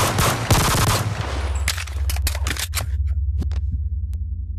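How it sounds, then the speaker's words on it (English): Gunfire in the VR game Bonelab: a dense, rapid burst of shots at first, then a few sharp single shots spaced out over a low steady hum. "I'm gonna shoot at him."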